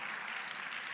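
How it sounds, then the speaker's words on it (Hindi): Audience clapping at a political rally of a women's wing gathering, a steady dense wash of applause filling the full second at moderate level, with no voices over it. "एक बार जोरदार तालियां हमारे इस महिला मोर्चा के राष्ट्रीय नेतृत्व को"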